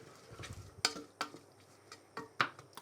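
Spoon stirring minestrone soup ingredients in a cooking pot, a few sharp clinks and scrapes against the pot at irregular intervals over soft shuffling, fairly quiet and close.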